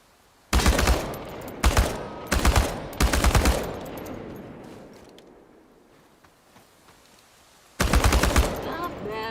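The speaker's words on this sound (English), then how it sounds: "The biggest challenge is compensating for recoil in automatic firing mode." Bursts of automatic rifle fire aimed at tin cans on a shooting range in the Chernobylite video game, loud and close: three rapid volleys in quick succession, a long fading tail, then one more burst near the end.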